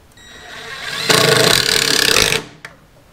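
A stainless self-tapping sheet metal screw is driven with a power tool on a catfish boat, a loud steady whirring burst of a little over a second with a brief click after.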